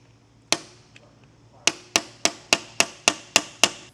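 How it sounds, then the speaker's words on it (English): Sharp metallic strikes from a pry bar peening a part during a Subaru STI transmission rebuild: one isolated hit, then a steady run of eight evenly spaced, loud, close taps with no talking. "we're just gonna peen this. I just use my pry bar."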